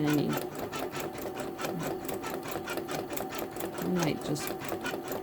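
A Janome Memory Craft 10001 embroidery machine stitches a scarecrow design, its rapid, steady needle chatter running throughout while a person talks over it.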